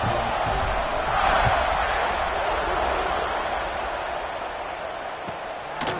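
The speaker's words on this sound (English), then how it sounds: "this crowd is buzzing after that last score" Stadium crowd in an American football video game, a broad steady roar and murmur after a score, distant and sustained with faint cheers rising and falling.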